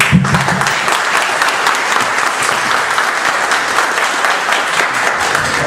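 A crowd claps steadily and loudly from start to finish, a dense even wash of applause with no voices standing out.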